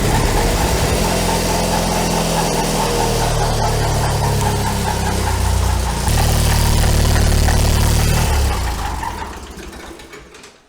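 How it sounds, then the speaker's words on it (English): An Onan engine on a mower, repaired after a broken rod, runs loud with its drive belt slipping and squealing on the engine pulley, a continuous rough drone that winds down and fades in the last two seconds. "it was the drive belt slipping on the pulley on the engine"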